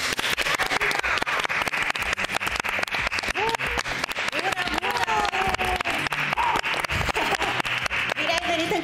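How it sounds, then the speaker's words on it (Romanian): Studio audience applause welcomes a singer onto a television show, sustained loud rhythmic clapping with a presenter's voice talking over it. "haideți să-l primim cu aplauze"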